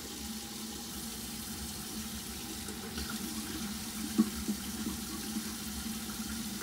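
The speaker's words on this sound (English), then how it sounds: "And yes, I'm grabbing some water for it. Because you need warm water." Warm water runs steadily from a sink tap, a continuous fairly quiet rush with a few brief splashes and knocks partway through.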